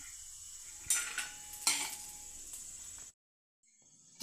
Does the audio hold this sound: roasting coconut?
yes